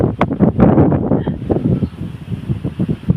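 Strong wind gusts through banana plants, giving loud, buffeting roars and rustling in irregular bursts close to the microphone, easing slightly toward the end.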